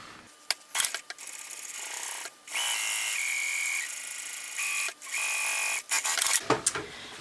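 A Tim Gunn sewing machine, stitch length set at 3, runs in several close, steady whirring bursts of stitching with short pauses between them, loud and alone without talk.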